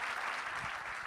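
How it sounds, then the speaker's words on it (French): Audience applause at an ecology talk, a brief, even burst of many hands clapping together, full and steady throughout. "On peut encore l'applaudir."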